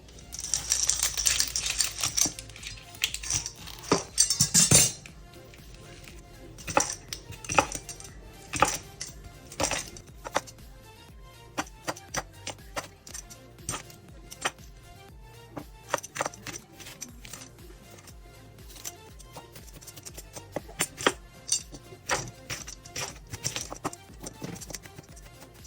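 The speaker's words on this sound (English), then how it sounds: "Next, I'm going to go ahead and peel and chop some onions." Onions being peeled and chopped on a board while preparing an aubergine curry, with a rush of rustling early on, then a long run of sharp, irregular knife taps close by, heard without any talk.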